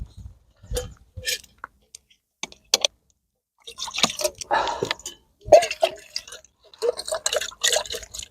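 Water is poured into a metal mess tin to rinse it out, heard as intermittent splashing, trickling and small clinks in short bursts separated by silence, close and moderately quiet.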